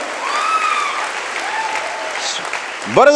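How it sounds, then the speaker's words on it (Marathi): A church congregation breaks into applause during a Marathi sermon, a steady broad wash of clapping filling the room with a singing voice over it early on. "तुम्ही टाळ्या लगेच मारल्या"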